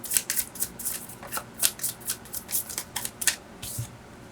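Tarot cards being shuffled by hand, a quick rhythmic series of crisp riffling bursts, about a dozen in close succession, near and clear with no talk.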